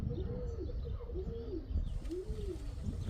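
Young pigeons cooing softly in a loft, a few low rolling coos spread over a quiet, faint background, no talk.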